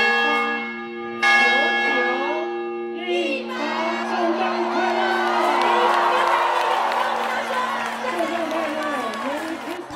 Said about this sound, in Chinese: 台中东海大学碧绿斯钟楼每年在十二月二十四日晚上11:58开始鸣钟一百响